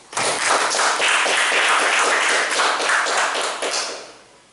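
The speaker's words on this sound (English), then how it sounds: "Give him a big round of applause." A Toastmasters meeting audience breaks into a dense burst of clapping that holds steady for several seconds, then thins and fades out near the end.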